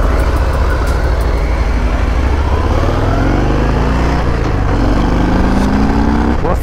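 A Harley-Davidson Fat Bob with an 1800cc engine accelerates hard, a loud continuous engine roar with rising pitch through the gears and wind rush throughout.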